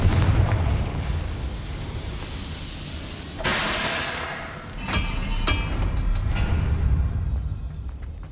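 Confringo explosion spell cast in the video game Hogwarts Legacy, a loud burst with a sharp onset followed by a rumbling roar, then several smaller pops and blasts as the fiery impact fades under steady game ambience.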